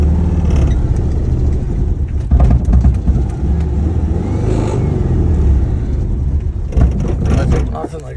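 Engine of a 1970 VW Bug project car rumbling low and loud as it pulls away, with a rough, uneven rev rising and falling, and someone talking over it.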